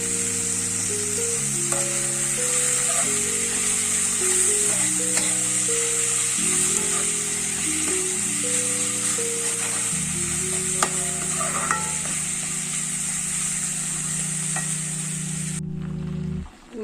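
Salt and turmeric sizzle and fry in a pan while being stirred, a steady close crackling hiss with occasional scraping, continuous and alone throughout.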